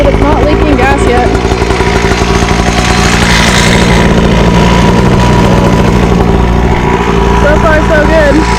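A small pit bike engine runs steadily just after being started, a continuous loud idle with a few slight revs; people talk over it.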